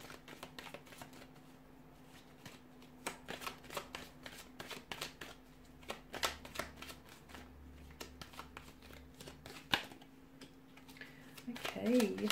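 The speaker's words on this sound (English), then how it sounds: "So I'll give the cards a shuffle and see what's coming in." Tarot cards being shuffled close up, a quiet run of crisp riffling flicks and soft taps, with a faint steady hum underneath.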